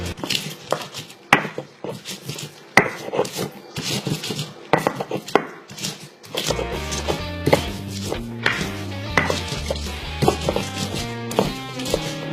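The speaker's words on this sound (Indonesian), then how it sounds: "Kita menggiling cabenya dulu ya, Alkit." Red chilies being ground for carp arsik, a rhythmic run of scraping and knocking strokes of stone or pestle, followed by music.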